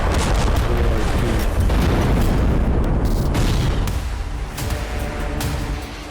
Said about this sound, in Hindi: बेहिसाब मिसाइल और आत्मघाती ड्रोन यूक्रेन की सीमा में दाखिल होते रहे और अलग अलग इलाकों में धमाके होते गए